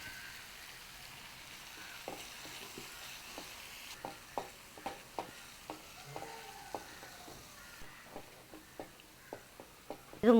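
Onion and chili frying in a pan for an Indian chakkarappuli recipe, a soft steady sizzle under a run of light, quick scraping stirs tapping out a loose rhythm, close and fairly quiet.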